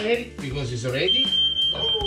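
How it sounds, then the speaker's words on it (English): A kitchen smoke alarm sounds while a Parma ham sandwich with fig and brie is being made, a steady high electronic tone starting partway through and continuing under close talking voices. "That was just our fire alarm."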